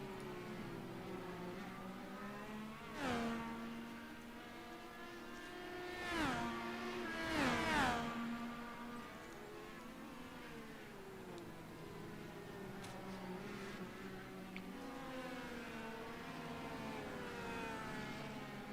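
Race car engines in the iRacing video game at the Long Beach street circuit drone steadily, with tonal whines rising and falling as cars brake and accelerate through a hairpin, several passes swelling briefly louder, no voices.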